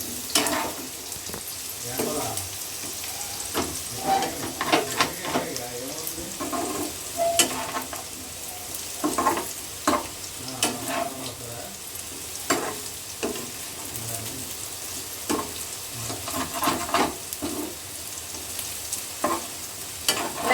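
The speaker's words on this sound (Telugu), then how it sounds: "కంటిన్యూస్గా కలుపుతూ ముక్కలకు కూడా అన్ని సైడ్లు కూడా మంచిగా ఫ్రై అయ్యేంత వరకు ఇలా కలుపుతూ ఉండాలి" Potato pieces frying in oil in a pan while being stirred continuously, a steady sizzle broken by repeated scraping, clattering strokes of the spatula, close and fairly loud, with no talk.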